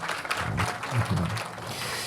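Audience applause, a brief burst of clapping from a crowd, steady and fairly loud for a couple of seconds.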